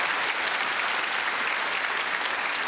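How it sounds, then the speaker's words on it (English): A comedy club audience gives a round of applause for a Star Wars fan, steady dense clapping from a large crowd that fills the whole moment with no speech on top. "Round of applause for the Star Wars fan."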